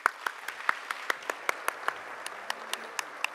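Sparse, distinct hand claps ring out at an advertising award ceremony, individual sharp claps spaced fairly evenly over a quiet room tone, sounding like a small number of people applauding rather than a full crowd.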